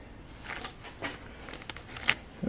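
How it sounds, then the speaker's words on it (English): Keys for a Mazda RX7 FD3S jangling, a few light metallic clinks and rattles scattered across a couple of seconds, close and fairly quiet with no talking. "So for example, here's the keys for the FD."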